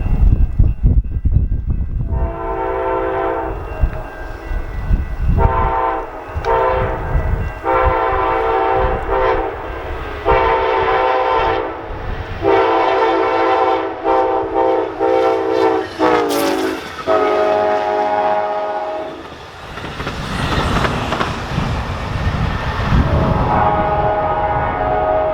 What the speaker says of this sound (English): We caught the engine charging through Chelsea with a friendly engineer at the helm.